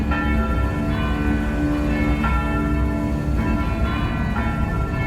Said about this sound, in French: les cloches se mettent à sonner à toute volée